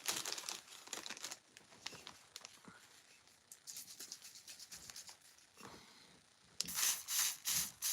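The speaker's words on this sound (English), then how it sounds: "Got a baggie here." Thin plastic baggie crinkling and rustling in the hands, in irregular bursts that grow louder and denser toward the end, with no talking.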